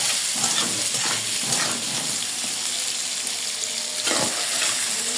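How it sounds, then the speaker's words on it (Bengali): Potatoes frying in a pan give off a continuous close sizzle, with irregular scraping and stirring strokes breaking through the crackle at intervals. "আলুগুলো একটু ভালো করে ভাজে নেব।"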